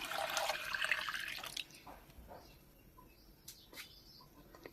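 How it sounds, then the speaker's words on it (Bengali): Water poured into a pan already holding milk, a short close gurgling splash for about a second and a half, then quiet with a few faint drips. "1 লিটার পানি দিয়ে দিব আমি।"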